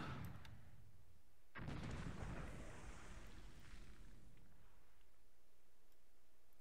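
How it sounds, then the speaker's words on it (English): Coastal guns in War In The Pacific: AE give a sudden muffled boom that rumbles and decays over a couple of seconds, following a quieter burst of firing. "coastal guns, only 38 are firing back"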